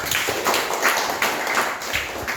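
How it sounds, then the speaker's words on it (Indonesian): Applause for a group of elementary school students after a cooking presentation in a classroom, a steady patter of hand claps filling the room with a few louder bursts. "tepuk tangan untuk kelompok 4"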